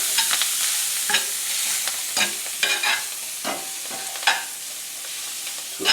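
Kale wilting in a hot pan with black pepper, giving a steady soft sizzle broken by repeated scraping stirs, close and fairly loud, no voices.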